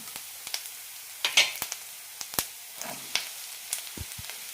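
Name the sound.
vegetables being added and sautéed in a pan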